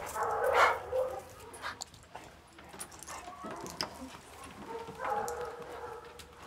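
Bunker, an older hunting dog, gives a few short yips and whimpers close by amid rustling movement, with people talking around him.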